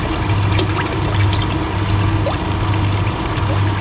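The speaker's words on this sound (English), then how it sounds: "this white vinegar goes in here now" White vinegar being poured into a container for a rust-removal electrolysis setup, a steady, loud, close liquid pouring and trickling that runs the whole time without pause, with no talk.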